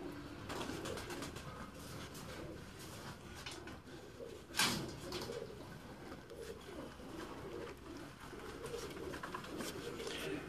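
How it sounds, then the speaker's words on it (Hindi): Teddy pigeons coo softly in a loft, low repeated calls under faint background murmur, with a sharp knock or click partway through. "ਉਹ ਹੁਣ ਟੈਡੀ ਕਬੂਤਰ ਲਿਆ ਨਾ"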